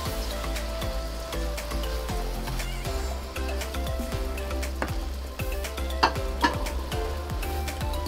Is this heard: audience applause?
no